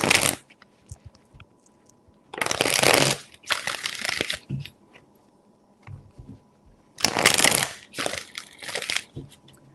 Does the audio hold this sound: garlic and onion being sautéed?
no